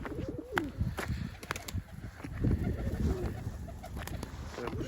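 Hungry pigeons gathered outdoors, including an escaped runaway, give low throaty coos close by, mixed with pecking taps, shuffling and brief flutters.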